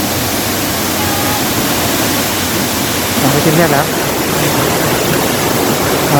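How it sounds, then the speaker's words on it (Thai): Rushing water from Jok Kradin waterfall in Thong Pha Phum National Park, Thailand, roars in a constant, dense hiss, loud and close, while a voice speaks briefly over the torrent. "นี่ก็คือน้ำตกเจ้ากระดินนะครับ"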